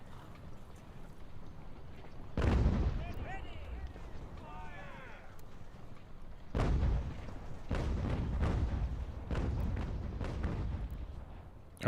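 Heavy artillery batteries firing in Ultimate General: American Revolution, booming in several separate low blasts with rumbling tails, mixed with distant battle noise and a few whistling sweeps.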